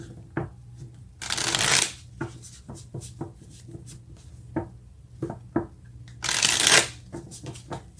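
Tarot cards being shuffled by hand during a reading, two long riffling bursts separated by soft taps, slides and card handling, close and clear with no talking.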